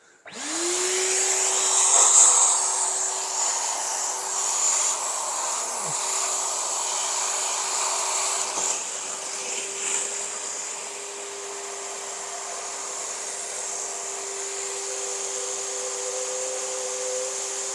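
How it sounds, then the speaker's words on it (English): A wet vac motor spins up and runs steadily for a long stretch with a constant whine and airy rush, close by, while sticky residue is being cleared during an MK1 Golf engine removal. "So let's get a wet vac on."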